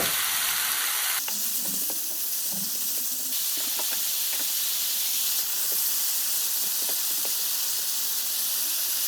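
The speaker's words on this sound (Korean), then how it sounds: "먼저 후라이팬에 기름을 두르고 어느 정도 열기가 올라올 때까지 기다렸다가 아까 밑간에 두었던 고기를" Marinated pork hits a hot oiled frying pan for stir-fried spicy pork, bursting into a loud, steady hiss and sizzle that runs throughout, with light clicks of a utensil moving the meat.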